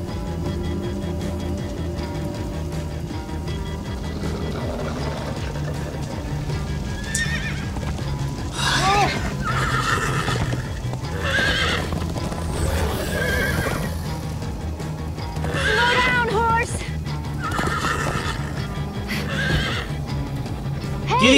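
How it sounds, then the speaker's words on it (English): Horses in the video game Minecraft: Story Mode neighing repeatedly over a steady rumble of galloping hooves, with several loud whinnies standing out across the stretch and a low background drone beneath. "Horses? Bingo! Everybody, get on!"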